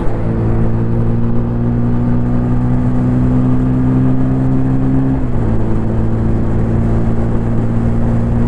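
A 2024 TVS Apache RTR 160 4V motorcycle held at full throttle in third gear, a loud, steady engine drone with a dense whir and a brief dip in pitch midway, carried over wind rush with no talk.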